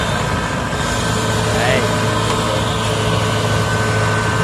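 A Kubota 770 combine harvester engine runs loud and steady with a constant mechanical drone and hum while the machine is driven down onto a boat, and someone speaks briefly over it.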